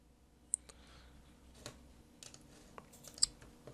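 A few faint, scattered keystrokes click on a computer keyboard while entering a formula in a spreadsheet, set against a quiet room hum.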